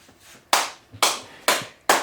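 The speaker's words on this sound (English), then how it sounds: "if I just go ahead and clap my hands out in the open" Four sharp hand claps, evenly spaced, in an open studio room, each one followed by a short echoing tail, alone with no talk.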